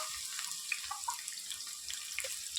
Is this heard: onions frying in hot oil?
yes